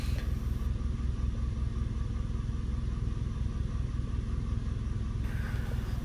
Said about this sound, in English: Interesting, you can see here idle RPM has been dropped after I applied some electrical load like AC on and headlight on.